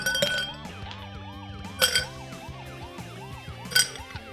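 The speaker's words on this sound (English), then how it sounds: "Fill a tall glass with ice." Ice cubes clink and rattle as they drop into a tall glass for a non-alcoholic highball, with a few sharp bright clatters standing out over steady game music in the background.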